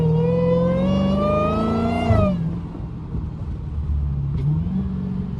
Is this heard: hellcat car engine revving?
yes